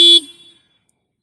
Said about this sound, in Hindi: एक बार मैं गाड़ी में ऑन कर दिया हूँ और चलिए अब देखते हैं कि हॉर्न कैसी है इसकी।